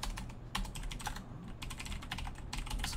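Computer keyboard clattering as Python code for a Pygame game is typed, quick irregular bursts of keystrokes with short pauses, close and clear with no speech.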